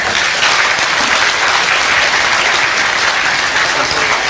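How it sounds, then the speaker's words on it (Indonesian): Loud, sustained applause from an audience at an Indonesian religious talk, a thick, even roar of many clapping hands with no break. "tepuk tangan untuk Allah Subhanahu wa taala"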